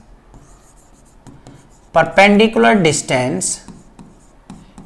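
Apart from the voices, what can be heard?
writing on a board while teaching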